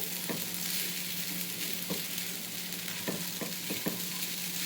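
Sabudana khichdi sautéed over a high flame gives a steady, close sizzle, with a handful of sharp stirring clinks and scrapes scattered through it and a low steady hum underneath.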